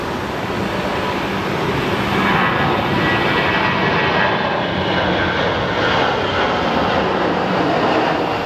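A jet airliner takes off at Sky Harbor International Airport in Phoenix, a loud, continuous broadband engine roar holding steady throughout with no voices over it.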